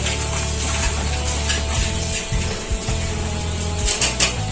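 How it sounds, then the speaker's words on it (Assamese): Duck meat frying in a pan with bay leaves and dried chillies, stirred with a spatula: a steady close sizzle with uneven scraping strokes against the pan bottom. "আৰু এতিয়া অলপ লৰাই দিম"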